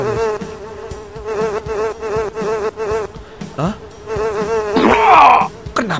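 Housefly buzzing in the video game Fly Simulator, a steady loud droning whine with wavering pitch running through the whole stretch, briefly dipping before a louder surge near the end, with a short spoken exclamation.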